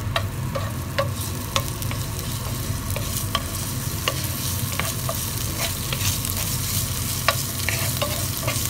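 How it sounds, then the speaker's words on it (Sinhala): Crushed ginger and garlic fry in hot coconut oil with a steady close sizzle, broken by sharp clicks and scrapes of stirring throughout. "දැන් අපි මේ තෙල් ටික රත් වෙලා තියෙන්නේ. මේකට දාගන්නවා දැන් මම තලාගත් ඉඟුරු සුදු ලුණු ටික."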